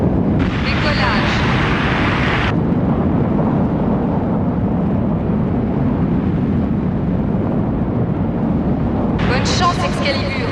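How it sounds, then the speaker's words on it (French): A spacecraft lifts off in a TV series effect, with a loud, steady roar filling the whole stretch; brighter hissing bursts sit at the start and end, and voices talk over it. "Décollage."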